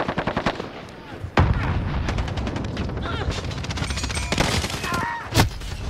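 Rapid bursts of automatic gunfire and single shots crackle through a first-person shooter match, loud and near, with a player's voice talking over the shooting.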